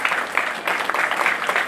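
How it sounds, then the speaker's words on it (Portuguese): A church congregation applauds after a call to praise Jesus, a brief dense burst of many hands clapping at steady loudness with no break. "Vamos dar uma salva de palmas para Jesus"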